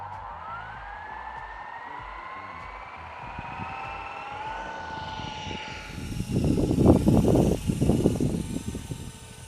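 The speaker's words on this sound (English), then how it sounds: "this is also one of the quietest helicopters that you would ever want to fly" An Esky Honeybee RC helicopter fitted with floats, flown on 72 MHz, whines steadily as its motor pitch climbs and glides. After about six seconds a louder, rougher whirring swells up close.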